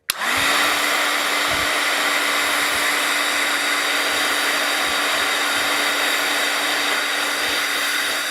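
A hair dryer drying craft work switches on and runs at a loud, steady whir with a constant drone that holds unchanged for several seconds, close by with no talking.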